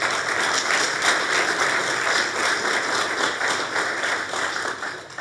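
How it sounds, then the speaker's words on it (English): A town hall audience at a golf club meeting about regrassing the course applauds in a loud, dense, steady burst of many hands clapping for about five seconds, easing slightly at the end with no speech. "Please give them a round of applause."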